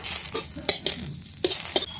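Soft sizzling of a dried red chili and two bay leaves in hot oil in a wok, broken by a few sharp crackles and clinks, close and quiet, with no speech.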